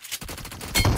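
Rapid automatic gunfire from the mobile battle royale shooter PUBG Mobile, a dense stream of close, loud shots with no pauses, swelling louder toward the end of the short burst.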